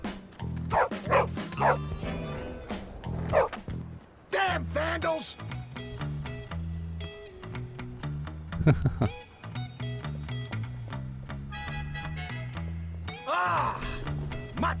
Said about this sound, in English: Go away, dog.